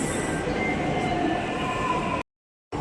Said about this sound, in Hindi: तो अब मिल चुकी है हमें एकदम मेट्रो बिल्कुल खाली